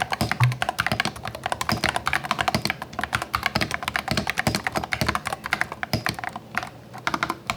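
Rapid, steady typing on a keyboard with keycaps, one of which is loose: dense clicking and clacking keystrokes, fairly close and continuous, with no talking.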